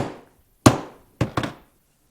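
A hollow punch is struck into gasket material to cut bolt holes while making a Suzuki TC125 intake manifold gasket. Three sharp, close thunks are heard, one single blow and then a quick pair, each with a short fading ring, with quiet pauses between.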